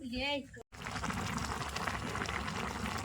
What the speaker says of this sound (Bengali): আমাদের তরকারি অলরেডি বলক এসে গেছে